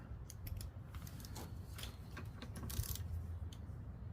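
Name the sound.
removing the top bolt from a Toro mower carb auto choke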